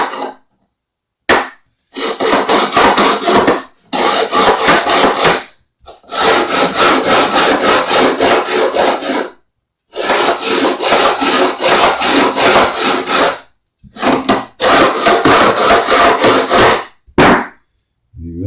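A file works back and forth across tough fret ends on a Jazz Bass being re-fretted, cutting a 45-degree bevel. The strokes come loud and close in long rasping bursts with short pauses between them, with no voices.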